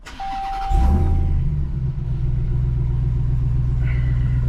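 A RAM TRX pickup truck engine starts after a short starter whir, catches with a loud surge, then settles into a steady, deep, rumbling idle close by.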